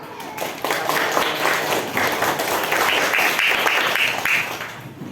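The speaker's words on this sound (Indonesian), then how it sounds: "kelompoknya Mas Amrul, silakan diberi tepuk tangan." Classroom applause from students in a guided teaching lesson, dense overlapping clapping that swells in quickly and continues steadily, with a few voices mixed in.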